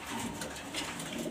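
Grizzle racer pigeons cooing in a loft in Mirpur, Dhaka, soft low throaty coos repeating close by over faint background noise, no one speaking.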